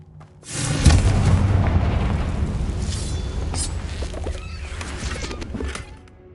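Confringo fire-blast spell in the Hogwarts Legacy video game: a loud booming explosion bursts in after a brief quiet start, then a rumbling blast tail rolls on for several seconds before fading.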